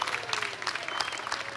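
A crowd claps steadily and densely throughout at the 40th annual News 6 Fireworks at the Fountain event.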